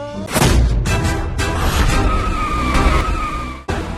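A car skids loudly with tire squeal as it nearly hits a pregnant woman on a road, a harsh sustained screech with rumbling under it that cuts off abruptly near the end.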